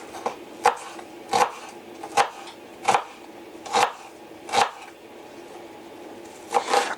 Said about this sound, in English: I think one of the keys here will be the fine chopping of the onions.